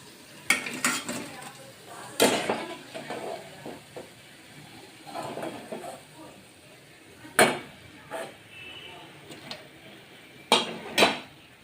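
Fried onion bhaji are lifted out of hot oil, with a low background sizzle and sharp, scattered metallic clanks and scrapes of a utensil against the pan, some loud and close.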